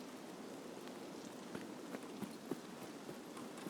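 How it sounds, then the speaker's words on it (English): Steady rain falling in the video game Escape from Tarkov along a shoreline, a constant broadband hiss with occasional brief drip-like taps, fairly faint and without voices. "and it's raining."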